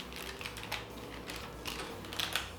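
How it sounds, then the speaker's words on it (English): A serrated knife saws lengthways through baked russet potatoes, giving a series of quiet, crisp rasping cuts in short bursts, with no talking. "then you just want to cut them lengthways. I decided to get a serrated knife"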